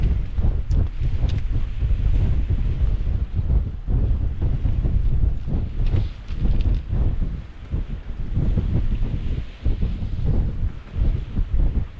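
Strong wind buffeting the microphone beside the River Humber during a sea fishing trip, a loud continuous low roar with surging gusts that runs for the whole stretch, no talk heard.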